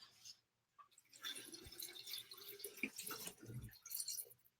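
Liquid for an apple cider vinegar preparation is poured into a container as one continuous, splashy trickle lasting a few seconds. It sounds close but faint, and there is no talk over it.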